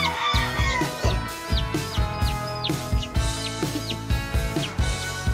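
Two-day-old chicks peep and cluck in a steady, busy chorus of high chirps while being given water, with repeated soft thumps and background music-like tones underneath, close and fairly loud throughout.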